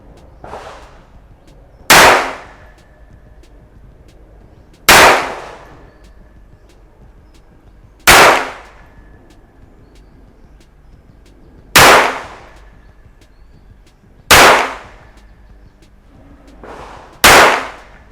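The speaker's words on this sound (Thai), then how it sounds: "ตัวปืนเทารัส PT55 กระบอกนี้นะครับ ผู้ยิงพร้อมนะครับ พร้อมแล้วเริ่มยิง" A Taurus PT55 pistol is test fired: six loud, sharp single gunshots at regular intervals of about three seconds, each with a short decaying ring, heard close with no talk between shots.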